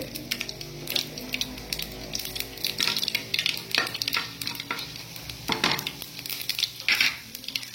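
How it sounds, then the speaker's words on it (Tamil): Mustard seeds and urad dal frying in hot oil in a pan, a steady close sizzle and crackle with a utensil stirring and scraping the pan, no voices. "கடுகு பொரிஞ்ச உடனே உளுத்தம்பருப்பு,"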